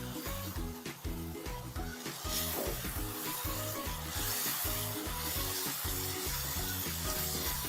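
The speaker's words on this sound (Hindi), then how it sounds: "बहुत अच्छे से भून लेते हैं" Eggplant (baingan) being roasted in masala for bharta, a steady sizzle with repeated rhythmic scraping strokes of a spoon against the pan, close and fairly quiet, with no talking.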